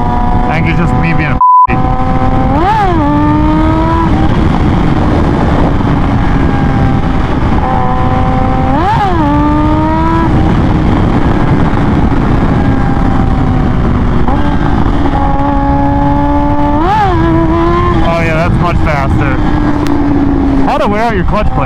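Kawasaki Ninja H2 motorcycle on a cross-country ride: a steady, loud engine drone with repeated rev swells and gear changes, over constant wind noise.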